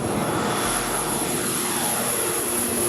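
A small plane's engine running steadily and loudly up close, a continuous droning roar with no break, on an island supply flight.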